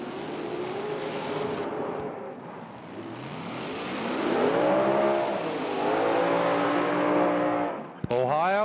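Kevin Fisher's TNT-powered Top Dragster race car at a Bristol drag race revs and accelerates with a loud rising engine whine, growing louder and then cutting off sharply near the end, with an announcer talking over it.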